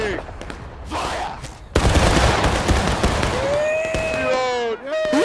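A volley of gunfire aimed at a fence in a game battle, a dense burst of overlapping shots ringing out loud and close, followed by sustained ringing tones and a voice briefly underneath.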